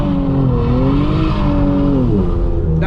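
Infiniti Q50 with a VR30 engine and manual gearbox accelerating hard, its loud engine note rising steadily in pitch and dipping briefly near the end, heard close and alone.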